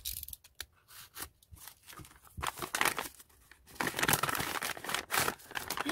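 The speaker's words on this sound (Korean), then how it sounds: "이거부터 한번 뜯어볼게요." A paper stationery package is torn open and crinkled up close, with bursts of ripping and rustling paper, the crumpling growing louder and more continuous toward the end.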